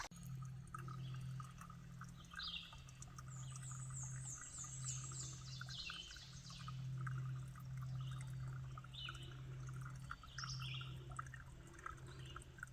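Mountain spring water on the Appalachian Trail trickles and pours down steadily beside the trail. The sound is faint and continuous, with birds chirping and calling in the background and no one speaking.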